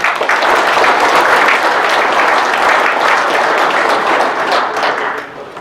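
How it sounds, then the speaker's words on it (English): Applause from an audience at a water and wastewater conference session: dense, sustained clapping at steady loudness throughout, tapering off slightly at the end. "Let's give him a round of applause."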